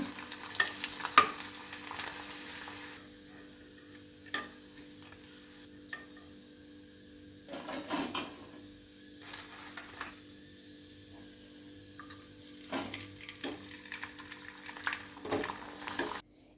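Tomato vadagam frying in hot oil, a steady close sizzle broken by sharp bursts of crackle and occasional stirring clinks, with no voices.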